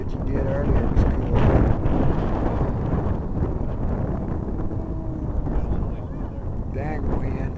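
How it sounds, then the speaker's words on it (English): Heavy wind buffeting a microphone outdoors at an RC flying field during a model plane pass, a loud continuous low rumble that swells and gusts throughout, with faint voices underneath. "Dang wind."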